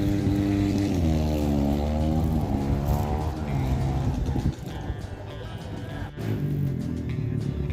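Racing vehicles run laps at a competition, with a loud, steady engine drone and rising and falling pitch as they pass close by, continuous throughout and with no talk.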